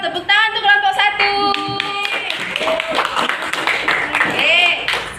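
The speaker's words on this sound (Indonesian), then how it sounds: "Tepuk tangan untuk kelompok 1." A classroom of fifth-grade pupils claps for a student group, a short burst of mixed hand claps that follows a moment of rhythmic chanting voices and continues under chatter.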